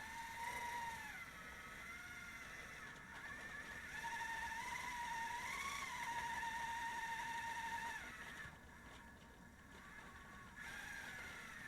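Axial SCX30 K10 RC crawler truck with an overdrive upgrade straining up a climb, a faint thin electric motor whine that rises and falls in pitch as the throttle changes, with a short lull before it resumes.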